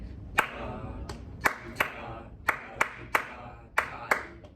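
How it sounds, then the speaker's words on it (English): A music teacher claps a rhythm pattern in a classroom, about ten sharp, close hand claps in an uneven sequence with gaps between, while quiet voices sit underneath. "I'm gonna clap, you say it"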